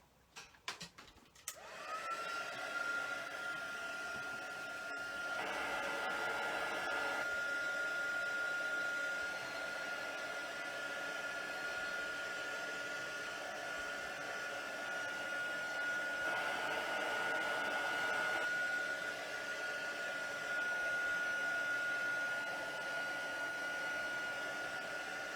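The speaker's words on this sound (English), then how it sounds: "I am going to bring out the heat tool to dry that" A heat tool blows steadily over wet watercolour paper, starting with a click and then a loud, constant whirring hiss that holds for over twenty seconds, its tone shifting slightly as it is moved, with no talk.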